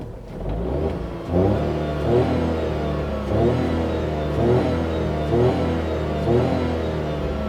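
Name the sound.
Tata Tiago 3-cylinder engine revving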